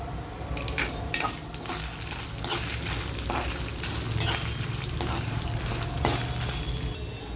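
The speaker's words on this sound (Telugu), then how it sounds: "ఇప్పుడు కారానికి సరిపడా ఎండుమిరపకాయలు కూడా వేసుకొని వేయించుకోవాలి" Dried red chillies fry in a pan alongside cumin, giving a steady close sizzle broken by occasional scraping stirs and light utensil clinks.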